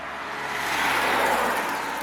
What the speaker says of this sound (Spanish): Por aquí un coche.